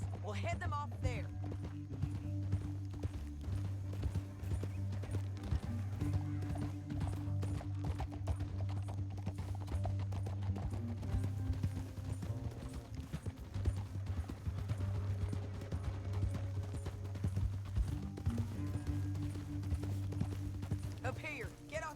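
Horses' hooves clip-clop steadily in Red Dead Redemption 2, set against a continuous low musical drone and game ambience, with the trotting rhythm carrying through most of the stretch.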